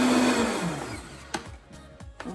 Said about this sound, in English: So I'm just gonna put about 1 cup and about 1/4 cup of these oats into the blender and blend this up.